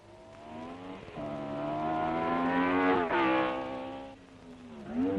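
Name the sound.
1962 Formula 1 race cars accelerating past the pits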